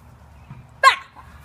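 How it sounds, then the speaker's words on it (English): A dog barks once in a video game, a single short, sharp yap standing out against a quiet background hum. "that's a dog"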